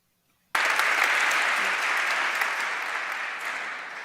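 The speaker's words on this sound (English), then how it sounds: "The crowd was cheering there." A crowd at a talk breaks into applause and cheering all at once after a brief silence, staying loud and dense and fading only slightly.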